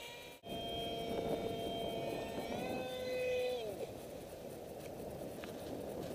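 An RCPowers F-35 v2 foam RC model jet glides in to land with its flaps deployed. Its fan whine rises steadily, then drops away and fades into outdoor background noise, heard from a moderate distance.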